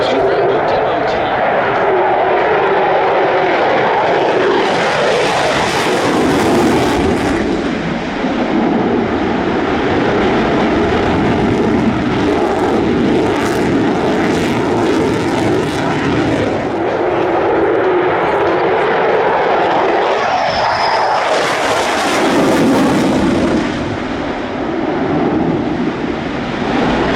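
F-22 Raptor fighter jets from Elmendorf Air Force Base make low approaches at the EAA airshow in Oshkosh, a loud, sustained jet roar that swells and fades in waves across the whole stretch, with a faint voice underneath.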